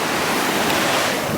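Rushing river water in the Narrows at Zion National Park, Utah, a steady close wash of flowing current with a breezy edge and no talk.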